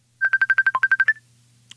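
Telephone line on a radio show dialing out: a rapid run of about ten evenly spaced touch-tone beeps, clear and close, ending with a short higher tone and a faint click, no talk over it.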